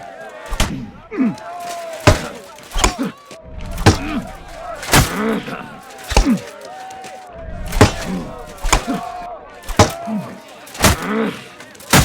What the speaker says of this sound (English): The duel with one-handed weapons can begin.